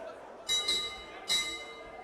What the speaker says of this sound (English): the bell will go shortly for the end of the first round